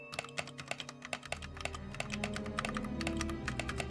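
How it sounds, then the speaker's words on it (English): Rapid typing on a computer keyboard, a quick run of crisp, close key clicks with uneven rhythm over a low background hum, fairly quiet and with no talk. "that's a lot of typing just to open up an email"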